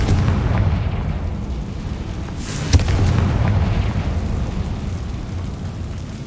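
Confringo blasting spell explosion in the Hogwarts Legacy video game: a loud, rumbling blast swells into a sharp crack near the middle, then a sustained low roar that slowly fades, with no speech.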